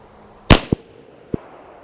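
.45 pistol shots at steel flapper targets on a range: one loud, sharp crack followed by two quick, fainter metallic pings from the targets.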